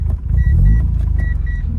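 1989 Mazda RX-7 FC3S Turbo II with its rotary engine cranking and catching, a deep, steady low rumble close up, with faint high whines over it.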